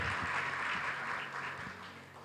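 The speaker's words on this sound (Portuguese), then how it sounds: "Você pode aplaudir o Senhor Jesus mais uma vez?" Church congregation applauding during a sermon, a steady wash of clapping at moderate level that slowly fades, with a low hum underneath.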